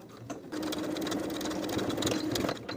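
A sewing machine edge stitches straight across the lower inner fold of a jeans coin pocket, starting after a brief pause and then running as a steady, close mechanical whir.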